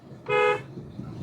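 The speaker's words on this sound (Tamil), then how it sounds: "one more horn" A single short, bright car horn toot, close and loud, followed by low engine rumble.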